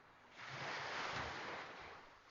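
Ocean surf rolling in at Champagne Beach on Santo, a broad steady wash of breaking water that swells louder in the middle and eases off, with no voices over it.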